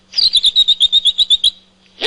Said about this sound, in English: That means strange birds.